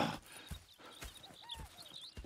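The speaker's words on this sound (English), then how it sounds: "Go check the horses are ready." Horses' hooves clip-clop in an uneven rhythm at close range, with faint whinny-like calls mixed in over quiet outdoor background, in the video game Red Dead Redemption 2.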